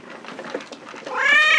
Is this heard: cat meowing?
yes